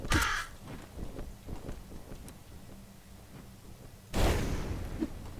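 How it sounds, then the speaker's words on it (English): A crow caws in the dungeon-crawler video game Legend of Grimrock, with harsh calls at the start and again near the end, separated by quieter game ambience and thumps. "That bird was not where I thought he was."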